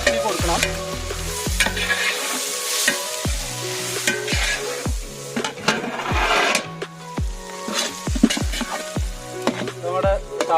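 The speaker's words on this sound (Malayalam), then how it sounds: "ഇനി നമുക്കിതിൽ അരിഞ്ഞു വെച്ച സവോള നന്നായിട്ടൊന്ന് ഇളക്കി കൊടുക്കണം." Sliced onions, cooked as part of a jackfruit dum biryani, are stirred in hot oil. A steady sizzle runs throughout, broken by repeated scraping and knocking of a spoon against the pan, close and fairly loud, with no talk.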